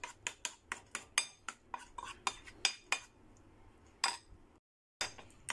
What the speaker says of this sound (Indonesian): Kita aduk sampai merata.